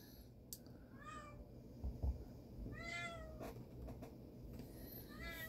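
A cat meows several times nearby, short rising calls spaced a second or so apart over a low background hum.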